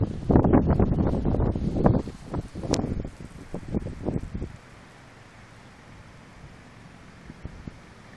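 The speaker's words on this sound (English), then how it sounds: "Here comes another gust." A strong wind gust ahead of a severe thunderstorm near Clinton, Missouri roars loudly into the microphone for several seconds, then drops away to a quiet rushing hush.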